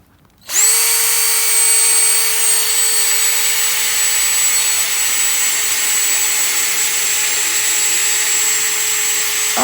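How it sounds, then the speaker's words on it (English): A Harbor Freight Bauer drill whirs loud and steady at high speed, scouring rust off a metal campfire grate in one continuous run. "We got a Harbor Freight Bauer. This is how you clean your grate."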